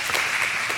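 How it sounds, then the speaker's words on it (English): An audience claps in a short, steady burst of applause, moderately loud and even, with no speech over it. "some of you are clapping for that"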